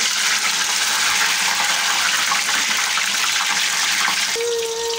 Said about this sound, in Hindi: इससे थोड़ा खोलता हुआ तेल होगा तो उसमें पोटैटो फ्राई अच्छे से फ्राई हो जाएगी।